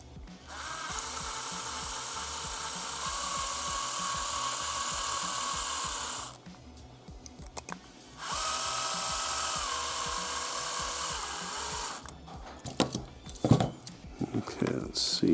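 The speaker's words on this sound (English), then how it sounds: "Let's drill this a little more here." A small rotary drill whines steadily into a diecast model boat, two long high-pitched runs separated by a brief pause, followed by clattering and scraping as the piece is worked loose.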